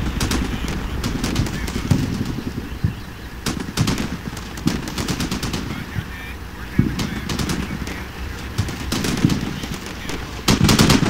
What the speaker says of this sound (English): The actual suppressing fires that are being done by the other strikers